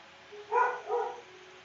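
A single dog gives two short, muffled barks in quick succession, moderately close, barking at strangers walking down the street, with a quiet background and no talk.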